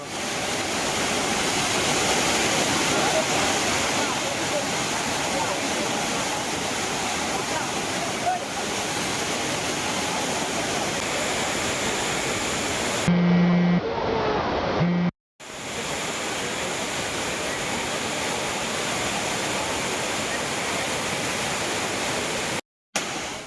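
Roaring waterfall at Courtallam, a steady broadband rush of falling water with tourists bathing beneath it, loud and continuous throughout, briefly cut by two short dropouts.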